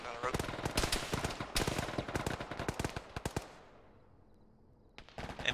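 Machine gun fire in a military video game: fast ragged bursts of close, loud shots for several seconds, a brief lull, then another short burst.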